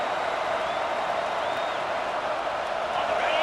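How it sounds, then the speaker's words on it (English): A stadium crowd roars in a steady, dense wash of noise at a college football game between Penn State and LSU, unbroken and sustained across the whole span, with no distinct voices standing out. "The roar of the crowd trying to fuel this defense to keep them pinned in their own end."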